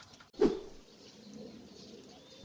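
A single soft call from a large fancy pigeon sounds once, close by, followed by quiet background hiss.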